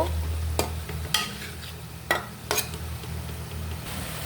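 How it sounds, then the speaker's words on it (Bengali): Tilapia fish sautéing in a spiced pan with cumin powder, a low continuous sizzle broken by four sharp stirring clacks of a spatula against the pan, close and clear with no voices. "মাছটা আমি ভালো করে কষিয়ে নেব"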